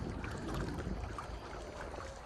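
A small boat moves across water toward a mooring in a shallow bay, giving a steady, close rumble of wash and wind noise with no talk.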